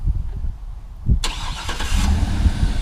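A 2013 Cadillac Escalade with a 6.2 V8 starts by remote: a brief crank, then the engine catches and settles into a steady, rumbling idle close by.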